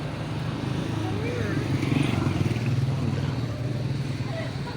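A motorcycle ridden on a road hums steadily with a low, pulsing engine note. Conversational voices are heard over it throughout.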